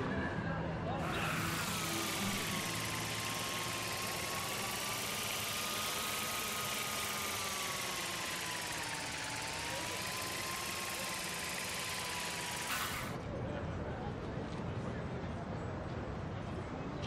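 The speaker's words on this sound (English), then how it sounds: "give the drone a whirl around campus" A drone in the video game Life is Strange flies around a school campus, giving off a steady mechanical whir that starts abruptly, holds for about twelve seconds with slight pitch wavers, then cuts off over a low background hum.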